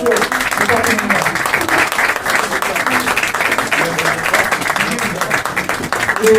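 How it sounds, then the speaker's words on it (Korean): An audience applauds after a political leader's inaugural address, loud sustained clapping close by with a voice speaking over it at times. "박수 부탁드립니다"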